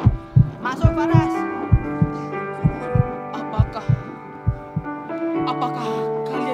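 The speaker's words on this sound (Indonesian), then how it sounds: "Apakah kalian mendengar detak jantung cukup kencang?" Loud, steady heartbeat thumps pulse about twice a second under a sustained musical drone during a stage performance, with low rhythmic beats dominating.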